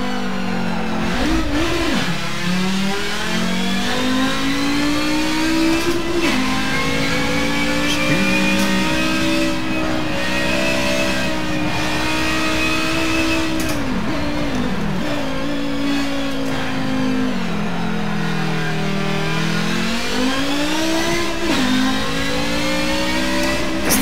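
A Group 5 race car accelerating in Forza Motorsport: a loud, continuous engine roar rising and falling through gear changes, close and alone with no talk.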